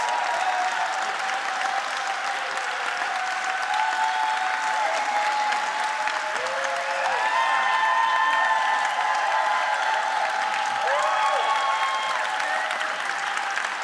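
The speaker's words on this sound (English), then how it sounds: "Please give them a round of applause." An indoor audience at a university closing event applauds the event team with dense, sustained clapping that stays even and loud throughout, and a few faint cheers and whoops rise above it.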